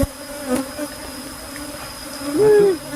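Apis cerana honeybees buzz around an open hive as the colony is moved into a cultivation box, a loud steady drone with individual bees swelling close past the listener, no talk.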